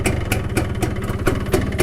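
Yamaha 125ZR two-stroke motorcycle engine idling up close after a cylinder change, a steady rough pulsing beat with regular rhythmic bursts, no talk.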